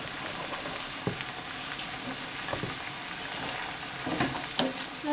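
Thin green asparagus spears, halved, frying in a pan at home, with a steady close sizzle throughout. A few soft clicks and stirring knocks sound over it, and no one talks.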